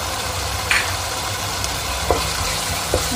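Spice masala with green chillies and garam masala frying in a pan for a tinda dal; a continuous close sizzle broken by a few soft spoon taps and stirring knocks, no voices.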